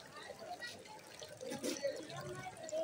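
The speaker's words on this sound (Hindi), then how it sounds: "ये मटके से पानी गिर रहा है यहाँ पर, जो मिट्टी का बने हुआ है।" Water trickles softly from a clay pot fountain, a decorative corner piece on display at the Nampally Numaish exhibition in Hyderabad. The faint, steady splashing sits under crowd murmur and background chatter.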